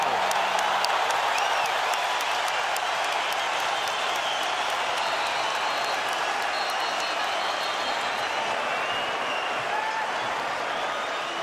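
A boxing arena crowd of about 12,500 applauding after a round, sustained clapping and cheering that stays steady throughout.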